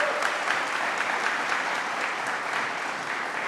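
An audience at a government mental-health announcement applauds for Dr. Ann Sullivan, a steady, even wash of clapping that continues throughout.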